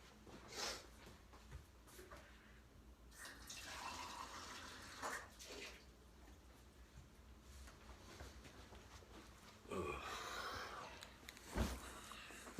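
Water runs from a tap to fill a glass in a home kitchen, heard as faint, intermittent splashing and trickling bursts across the span with no talk.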